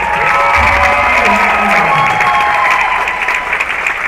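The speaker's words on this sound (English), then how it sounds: "Big round of applause." A crowd in a gym at a high school basketball championship game applauds and cheers, a steady loud wash of clapping and voices that holds for the whole few seconds.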